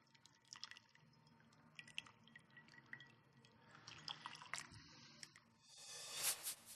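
Brown stock drips and squelches as a fine mesh cheesecloth strainer is squeezed by hand, with soft wet squishes and scattered drips building to a fuller trickle of liquid at the end, quiet and close.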